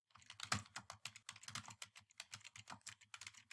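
Fingers typing on a computer keyboard in a quick, uneven run of close, crisp key clicks with no talking.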